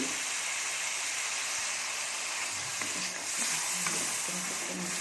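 Green peas added to a sizzling egg mixture in a pan for khagina, giving a steady, fairly soft frying hiss with faint stirring scrapes toward the end; no one speaks.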